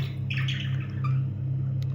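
Parrots let out a couple of short, harsh squawks over a steady low hum, fairly close.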